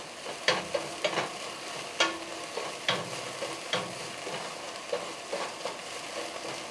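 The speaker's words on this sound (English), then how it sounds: "It's all cooking down now. The veggies are doing good." Vegetables cook in oil in a pot for one-pot chicken Alfredo fettuccine, giving a soft, moderate sizzle broken by regular scraping stirs and clinks of a utensil, with no talking.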